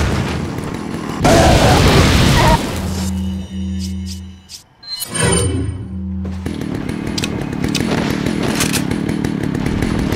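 An incendiary grenade in Resident Evil 4 is thrown and bursts with a loud boom and roaring fire, followed by sustained crackling flames and mechanical drone. No one speaks over it.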